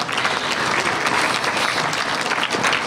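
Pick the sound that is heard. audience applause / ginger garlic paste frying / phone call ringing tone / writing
audience applause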